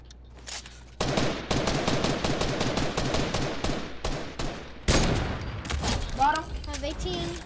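Gunfire in the video game Fortnite comes as rapid automatic bursts of loud shots, broken by a short pause and a second volley, with players talking over them.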